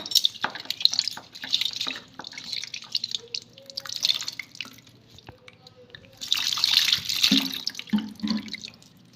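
A conch shell bangle is rinsed under running water, with splashing bursts and dripping that come and go in uneven waves, loud and near.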